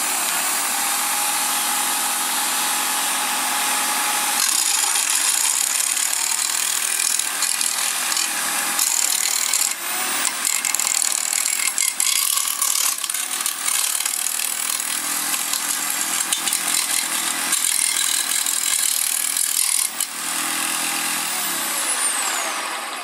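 A power tool rips through a plastic keyway, giving a loud, harsh, continuous cutting whine that runs almost unbroken for over twenty seconds, with a few brief dips in intensity and no talking.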